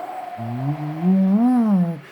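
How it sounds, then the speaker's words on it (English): Wind whistles loudly through the narrow gap of a sliding glass door, a close, moaning tone that slides upward and swells before falling away. "the wind is blowing so hard that my sliding glass door"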